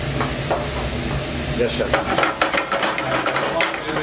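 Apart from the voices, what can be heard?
mushrooms sizzling in a frying pan with bacon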